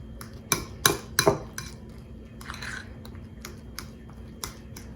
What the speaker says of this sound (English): keep mixing the mayo in until you are finished